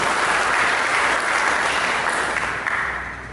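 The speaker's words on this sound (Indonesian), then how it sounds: "Berikan tepuk tangan bagi Yesus Kristus." A church congregation applauds for Jesus Christ during a sermon, loud and dense clapping from many people that holds steady, then begins to fade toward the end.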